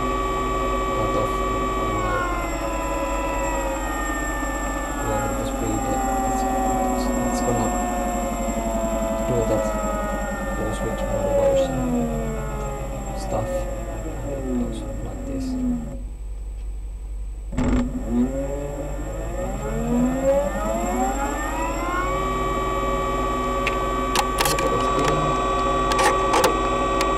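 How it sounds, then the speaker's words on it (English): A high-pitched electric bike motor whine held at full throttle, its tone sliding down and back up with a brief cutout midway, steady and close. "This is full throttle, so there is no cutoff."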